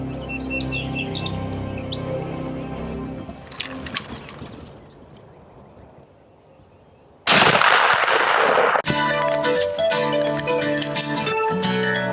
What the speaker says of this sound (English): it's just a matter of moments before he takes a shot